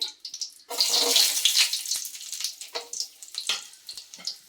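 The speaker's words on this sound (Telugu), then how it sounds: "జీడిపప్పు కొద్దిగా వేగనిద్దాం" Cashews frying in hot oil with a stick of cinnamon and two cloves, a steady close sizzle and crackle that swells and then breaks into scattered bubbling pops.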